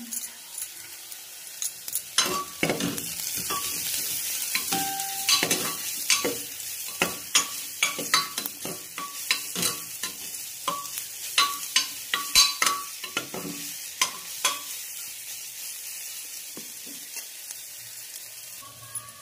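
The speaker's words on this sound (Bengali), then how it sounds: "এইভাবে আমি 5 মিনিটের মতো কষিয়ে নেব।" Mutton pieces sauté in a pan with salt and turmeric for a soup, a steady soft sizzle broken by repeated scraping and clinking stirs of a utensil against the pan.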